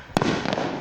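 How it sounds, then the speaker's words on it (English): Fourth of July fireworks and firecrackers going off outdoors: a sharp loud bang near the start followed by crackling bursts and a second pop, rumbling on with no talk. "they're doing firecrackers right after when I'm doing the video"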